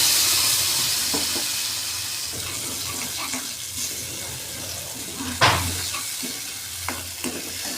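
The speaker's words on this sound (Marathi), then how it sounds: "तेलात थोडं जिरं थोडं तडतडले की हळद आणि त्यात आपल्याला हे वाटलेलं मिश्रण घालून घ्यायचं आहे" Cumin seeds crackle in hot oil in a kadhai, a steady background sizzle broken by a few sharp pops and stirring scrapes, heard alone without talking.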